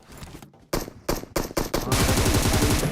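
Bursts of gunfire in PUBG Mobile ring out loud and close, a few separate shots giving way to a sustained rapid rattle of automatic fire toward the end.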